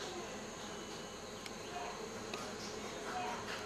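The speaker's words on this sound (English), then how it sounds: "There's bees up there." A steady insect buzz, like bees, fills the background continuously at moderate-low level, with faint rustling and no clear talk.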